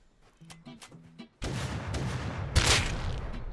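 Rocket explosions hit a base during a raid in the Rust video game. A quiet stretch gives way to sudden heavy booming blasts and crackling bursts, with one loud peak near the end.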